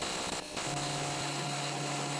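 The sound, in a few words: sandblasting metal parts of an antique bread slicer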